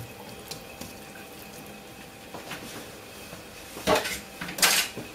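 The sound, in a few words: drained vegetables put back into a bowl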